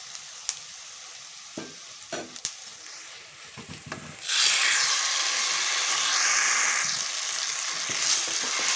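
Chutney tipped into a hot tempering in a pan, a few light knocks and clinks first, then a sudden loud hiss of frying that holds steady while it is stirred.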